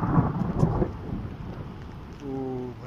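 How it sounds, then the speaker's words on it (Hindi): Thunder rumbles and cracks during a rainstorm, a loud deep burst at the start fading into steady rain, with a faint tonal hum near the end. "बिजली कड़की है यहाँ पे, अभी देखना।"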